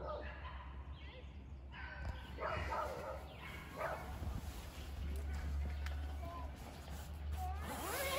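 Dogs bark and yip on and off amid a busy outdoor crowd with people talking and a low steady rumble underneath.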